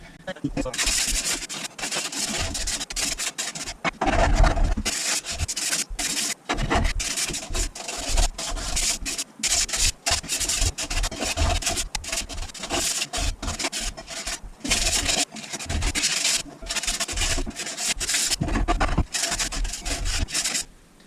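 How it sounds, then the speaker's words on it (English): Corroded metal plates for a hydrogen HHO generator sanded by hand, a continuous close rasping rub in quick back-and-forth strokes that goes on without a pause. "I'm going to give them all a sand to A, get some of the corrosion on them off, and B, to increase the surface area."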